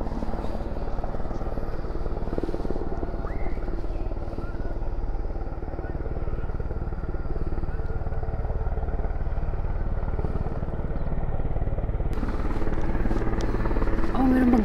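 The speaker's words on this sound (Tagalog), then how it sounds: "meron maglanding na helicopter." A helicopter lands nearby at a park, its steady thudding rotor and engine roar filling the whole stretch loudly and continuously, growing a little brighter toward the end.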